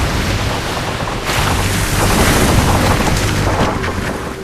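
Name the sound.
Aker ARC 130 icebreaker ship sailing stern first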